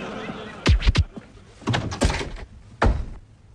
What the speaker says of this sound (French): Mais, ouvre cette porte, Junior.